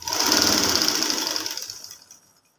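A sewing machine stitches a hem on the belt fabric of a Patiala salwar. It runs in one close, fast, steady whir with a rapid mechanical ticking, then winds down and stops.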